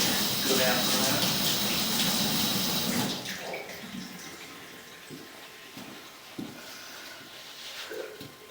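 Water rushes down a cast iron drain stack at its base, a loud steady wash for about three seconds before easing off to a quieter trickle with scattered soft knocks and faint talk.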